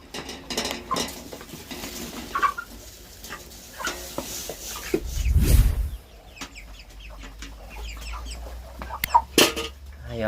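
Chickens cluck softly while eating poured feed, with scattered clucks over rustling and clinking of the feeder and a louder low thump midway.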